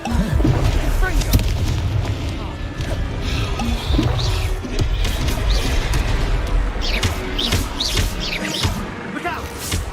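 Confringo blasting-spell explosions in the Hogwarts Legacy video game, repeated loud booms and crashes over a dense battle din, with people talking throughout.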